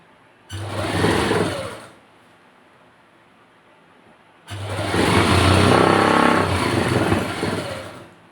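A sewing machine stitches salwar fabric in two runs, a short burst of whirring followed by a pause and then a longer, steady stretch of fast, close mechanical stitching.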